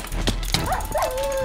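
Dogs in the video game Minecraft UHC let out a few quick barks and yips followed by a whining tone, all within a brief moment.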